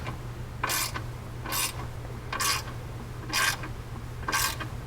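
Bolts on Ricochet skid plates fitted to a Yamaha Viking VI are tightened, with five evenly spaced, brief ratcheting rasps over a low steady hum.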